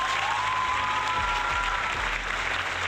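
Continuous applause from a crowd, a steady wash of many hands clapping at once, loud and unbroken throughout.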